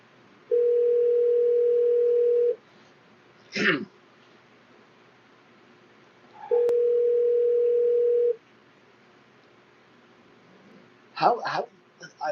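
An unanswered call on a cold-calling phone dialer rings back in two long steady tones about six seconds apart, with brief throat and voice sounds in the gaps.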